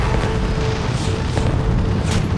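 Gunfire aimed at an Apache helicopter in the PS3 game Apache Air Assault: a dense, loud, continuous roar of booming shots and rumble that fills the whole moment, with no voices.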